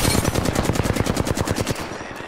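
Sustained automatic gunfire in a video game shooter, a rapid, loud burst of evenly spaced shots running nearly two seconds before tailing off, with no voices over it.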